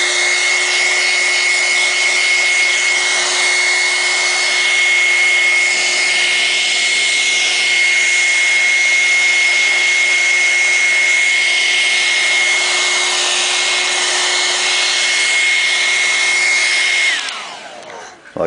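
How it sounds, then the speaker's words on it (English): A hair dryer blows steadily at close range to dry fresh camouflage paint, a loud broadband whoosh with a constant high motor whine that runs for about seventeen seconds before winding down at the end. "I'm using a hair dryer."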